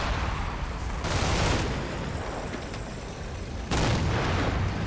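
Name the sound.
infantry gunfire in Combat Mission Red Thunder video game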